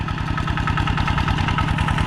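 Tractor engine idling steadily and close by, its low knocking beat repeating in a fast, even rhythm throughout with no talk over it.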